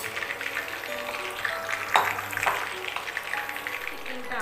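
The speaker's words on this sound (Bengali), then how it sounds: "এইভাবে বাকি যে চিকেনগুলো আছে ফ্রাই করে নেব" Chicken pieces frying in hot oil for chilly chicken, a steady close sizzle and crackle with a few louder spits and stirring clatter partway through.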